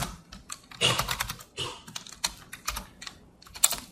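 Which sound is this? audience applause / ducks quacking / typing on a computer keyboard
typing on a computer keyboard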